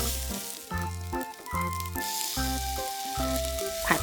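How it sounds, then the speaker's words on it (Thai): Cooked rice stir-fried with spicy shrimp paste (nam prik kapi) and seasonings gives a continuous sizzle under steady background music, with no break for the full few seconds. "จากนั้นก็นำไปผัดกับข้าวสวยได้เลยค่ะ"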